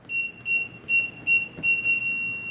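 A Kwikset SmartCode smart deadbolt lock gives a series of short, high electronic beeps in quick rhythm, five or six chirps with the last one held a bit longer, clear and close.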